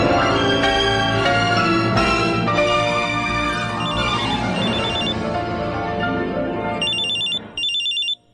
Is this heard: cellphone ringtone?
yes